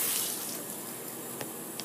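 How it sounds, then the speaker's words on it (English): Cold tap water runs into a cup, a steady hiss of gushing water that fills the whole short stretch, with a couple of small splashes near the end. "fill it up with cold water"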